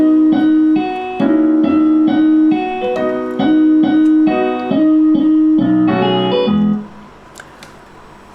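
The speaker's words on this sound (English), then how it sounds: "it has sort of a synthetic sounding guitar," A synthetic-toned electric guitar plays a blues solo in B over a piano backing track, in a steady rhythm of repeated chordal notes with a busier flurry near the end before the sound drops away.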